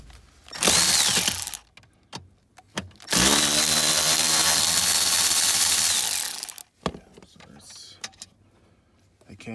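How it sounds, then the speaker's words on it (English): Electric ratchet fitted with a quarter-inch adapter backing out a bolt on a 1997–2003 Ford pickup or Expedition ignition switch, giving two loud whirring runs, a short one and then a sustained one of about three seconds, with clicks and handling noises between. "electric ratchet, and I've got a quarter adapter on there just to back this off"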